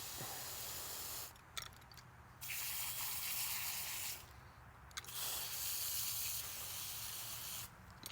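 An Earlex 6700 paint sprayer from Wagner hisses in three long bursts, each several seconds, separated by brief pauses with quieter mechanical clicks.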